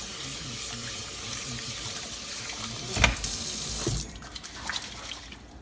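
Rice for arroz con pollo is washed under a running kitchen tap, water streaming steadily and loudly with splashy surges as the grains are swished.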